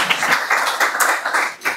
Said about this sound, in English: on peut les applaudir, je pense